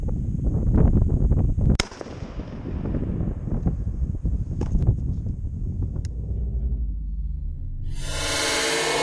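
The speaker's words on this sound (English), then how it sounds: "We're going to shoot again with another turkey load." A shotgun fires a turkey load outdoors on a windy range: one sharp, loud blast rings out amid steady wind rumble on the microphone, then a hiss of wind near the end.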